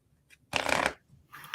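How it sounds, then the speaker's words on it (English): Tarot cards being shuffled give one short, crisp riffling burst, close and fairly soft, with faint rustles before and after and no talk over it. "I'm sorry, I was shuffling."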